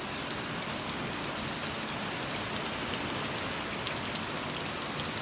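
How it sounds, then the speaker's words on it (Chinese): Steady heavy rain falls on surfaces nearby, a dense, even hiss of drops with no break, loud and close and with no voices. "下雨了"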